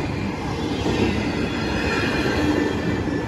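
A Norfolk Southern freight train rumbles past steadily and loudly in Blasdell, New York, with rattling wheels and a thin squeal over the heavy, continuous roar.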